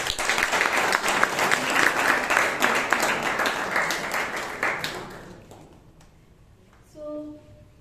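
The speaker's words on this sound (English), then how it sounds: "Let's give a round of applause." An audience at a Bangalore Toastmasters club meeting breaks into steady applause that holds for about five seconds, then fades into quiet room tone with a brief voice at the end.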